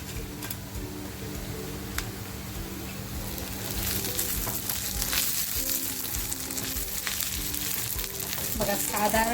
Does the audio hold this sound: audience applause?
no